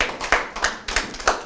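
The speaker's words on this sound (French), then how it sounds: "vous pouvez l'applaudir, Béhémet." A few people clap in a small room during a religious lesson, giving sparse, uneven handclaps in short bursts rather than full audience applause.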